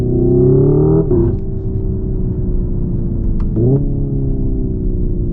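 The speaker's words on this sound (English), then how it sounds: "It actually hits into a rev limiter." A 2025 Hyundai Ioniq 5 N electric car plays a synthetic engine note at the rev limiter: a loud, steady, rumbling drone that cuts and bounces abruptly twice, then holds near-constant. No talking.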